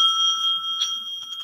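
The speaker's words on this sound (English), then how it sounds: "the timekeeper will ring the bell once again at the 3rd minute" A debate timekeeper rings a bell once, giving a bright, pure metallic ring that sustains and slowly fades, near and clear with no voices.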